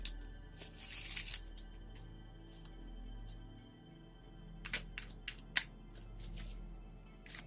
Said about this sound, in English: I actually want to shuffle these cards first before pulling any of them.